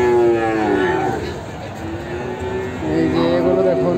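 Friesian-breed calves at a Joypurhat cattle market give loud, drawn-out moos, two main calls with a lull between, over busy market background noise.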